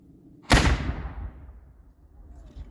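A full-size cannon fires once at a 250th anniversary event of the Revolutionary War: a sudden loud boom that rolls and echoes away outdoors, decaying over about two seconds, with faint background voices.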